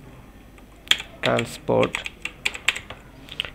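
Keys clatter on a computer keyboard as router configuration commands are typed in, a few quick bursts of near, moderate clicks mixed with a voice talking.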